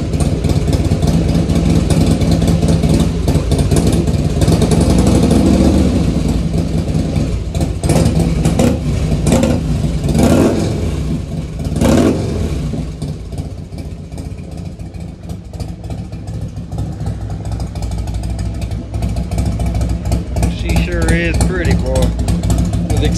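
A carbureted 2003 Harley-Davidson Heritage Softail runs loud and steady just after a choke-assisted cold start, its low engine drone continuous throughout with small swells in revs, while a voice talks over it.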